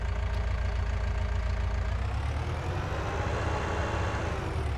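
A steady cab-over truck engine drone in Farming Simulator 19, with a low rumbling idle, constant and close, with no voices over it.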